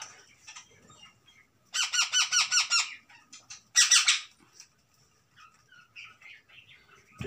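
An Indian ringneck parrot in free-flying training lets out a rapid series of loud, harsh squawks, followed after a pause by a second short burst. Softer chirps and rustling fill the quiet gaps.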